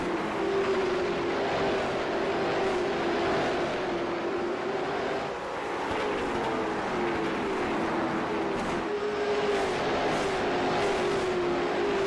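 Late model stock race cars circle Thompson racetrack, a continuous loud engine drone that rises and falls as the pack passes, with no break across the stretch.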